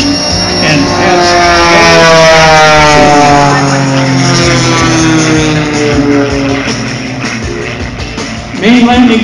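A Viper biplane at an air show roars close and loud, its engine and large MT-built Viper propeller throbbing steadily with a rising and falling tone, easing slightly toward the end.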